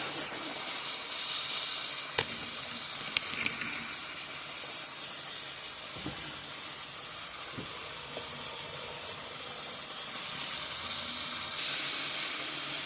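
Chicken livers frying in a pan for dirty rice give off a soft, steady hiss of sizzle and steam, with a few small pops and clicks scattered through it.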